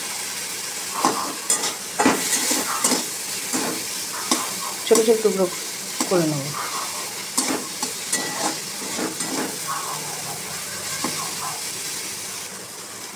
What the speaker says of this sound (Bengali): চিংড়ি মাছ ভাজা ভাজা হচ্ছে,